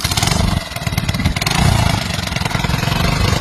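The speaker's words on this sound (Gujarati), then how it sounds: "100 સીસી ના એન્જિન ઉપર મિની ટ્રેક્ટર નાનું" A small mini tractor with a 100cc engine runs steadily and loudly close by, its rapid, chugging motorcycle-like putter continuing without pause.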